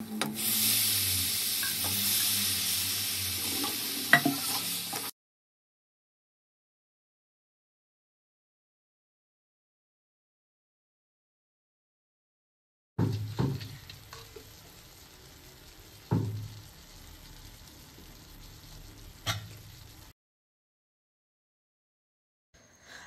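Chicken pieces, washed and added to hot ginger garlic paste in a pan, sizzle and fry loudly at first, then after a silent gap the frying resumes more softly with stirring scrapes and occasional knocks.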